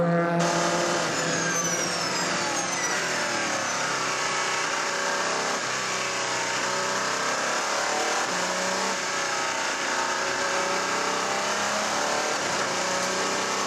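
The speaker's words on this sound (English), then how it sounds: "Complicating things is James Rossiter trying to make his way through this gaggle of LMP2 cars to join the P1 train." LMP1 and LMP2 endurance prototypes racing at Spa-Francorchamps during the 6 Hours, engines roaring continuously with overlapping passes and pitch sweeps, loud and sustained throughout.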